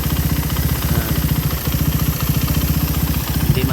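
Carbureted Suzuki Raider 150 motorcycle engine idling with a steady close-up rhythmic chug and a fast metallic knocking from inside the engine, running continuously with no talk.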